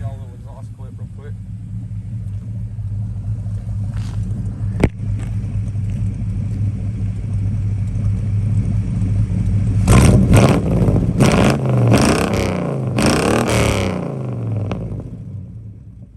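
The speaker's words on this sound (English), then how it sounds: "I'll give y'all a little exhaust clip real quick." A 1988–95 Chevy TBI truck with a Vortec swap idles with a low rumble through a Flowmaster FlowFX exhaust, then blips through several sharp, loud revs before settling back down.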